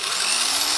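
A Black & Decker 5.2 amp corded drill runs steadily at full speed, a loud, even motor whine and rush of air lasting throughout with no talking.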